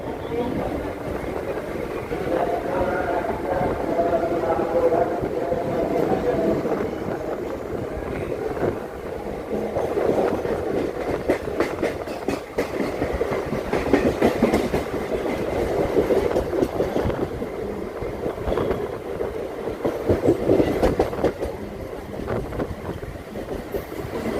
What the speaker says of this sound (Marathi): 2:05 आपली ट्रेन सुटलेली आहे